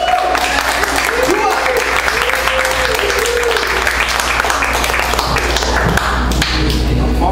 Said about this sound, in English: Let's all give Kent another round of applause